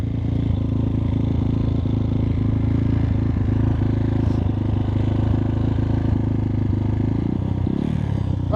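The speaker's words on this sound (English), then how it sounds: "Alright, let's try this wheelie in." A 2021 X-Pro Titan 250cc dirt bike runs loud and steady in first gear, its engine droning and clattering continuously close by, with a brief shift in tone near the end as the rider prepares for a wheelie.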